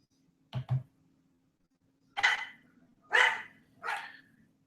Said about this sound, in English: Now you can hear my dog.